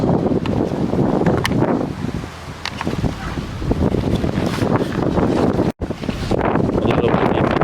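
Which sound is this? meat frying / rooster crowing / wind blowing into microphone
wind blowing into microphone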